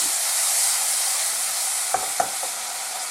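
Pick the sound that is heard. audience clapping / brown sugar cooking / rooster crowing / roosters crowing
brown sugar cooking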